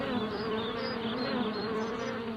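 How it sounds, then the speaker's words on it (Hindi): Honeybees kept in a wooden beehive box at a plant nursery for pollination, buzzing in a dense, continuous hum with overlapping wingbeat tones, close and steady. "ये मधुमक्खी की पेटी है,"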